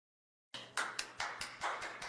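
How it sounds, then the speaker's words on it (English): A single person's hand claps ring out after a moment of silence, about seven sharp, evenly spaced claps in a quick steady rhythm, close and clear with nothing else heard. "I'm applauding"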